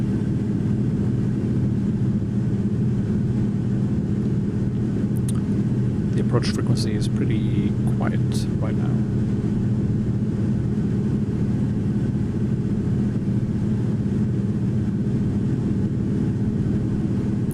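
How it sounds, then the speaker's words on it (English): Engine of a de Havilland Beaver flying over Salt Lake, a steady low droning hum that runs unbroken under someone talking in the cabin. "There's me and the engine. Hopefully you can hear the engine."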